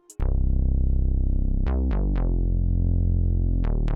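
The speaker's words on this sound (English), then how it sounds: "we need a very thick bass to fill out the rest of the sample" A deep, thick bass tone sustains and rolls under the music, with a few plucked notes attacking on top; steady and loud, no voices.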